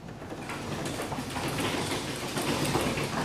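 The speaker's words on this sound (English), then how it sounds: "Now we'll go ahead and lower the door again." Steady rumbling and rattling of a garage door coming down, a continuous clattering roll at close range with no voices.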